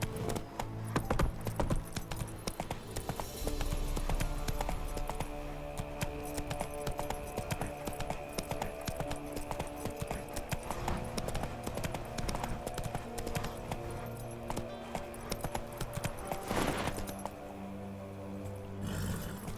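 Roach the horse galloping in The Witcher 3, hooves clip-clopping in a steady fast rhythm close by, running continuously over game music and ambience, with a sudden break near the end.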